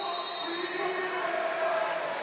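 Broad, steady murmur of a large basketball crowd filling the lower bowl of Haas Pavilion during a boys' high school game, a continuous noisy wash with no single shouts standing out.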